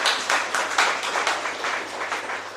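An audience applauds at an anniversary event, a steady burst of many hands clapping close by for a couple of seconds, fading slightly toward the end.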